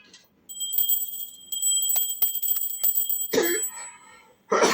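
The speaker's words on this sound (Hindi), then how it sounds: "अभी घंटा बजाइए थोड़ा सा" A small puja hand bell rings during a Hindu prana pratishtha consecration of a Sai Baba idol, a bright sustained jingle with quick repeated strikes for about three seconds, followed by a couple of loud, rough bursts like coughing.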